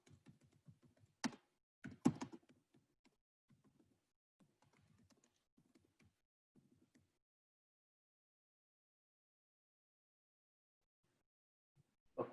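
Someone types a short command on a computer keyboard, with scattered quiet key taps and a few sharper clacks over about seven seconds, then near silence and a final louder tap.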